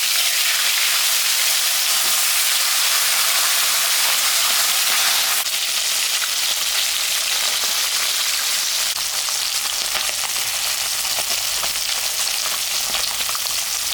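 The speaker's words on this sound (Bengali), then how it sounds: "তেলটা গরম হয়ে গেছে, এখন আমি মাছের মাথাটা ভাজে নেব।" Fish head frying in hot oil in a home kitchen, giving a loud, steady, continuous sizzle and crackle that runs throughout with no talking.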